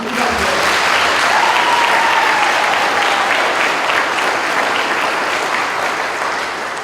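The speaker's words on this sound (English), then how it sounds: "So let us really give him a round of applause." A church congregation at a silver jubilee Mass in the Witbank Diocese gives a round of applause, loud, dense and sustained clapping that stays steady for the whole stretch and eases slightly at the end.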